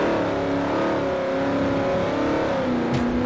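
Race car engines roar continuously in a sim racing game of a historic Trans Am event at Sedona, a 1970 Mustang among the field, steady loud revving with overlapping cars close by.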